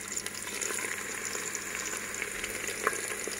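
Lobak meat rolls fry in hot oil in a Malaysian kitchen, giving a soft, steady sizzle with faint crackles, quiet and uninterrupted.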